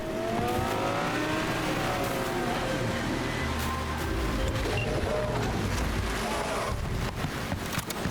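Car engine in Cyberpunk 2077 rumbling and revving steadily through the whole stretch, loud and close, with a low droning texture and a few rising tones.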